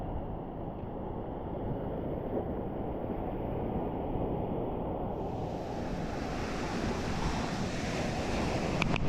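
Ocean surf rolls in at a Cancun beach, Playa Tortugas or Playa Marlin, as a steady broadband wash heavily mixed with gusty wind rumble on the microphone, continuous and unbroken, with no voices.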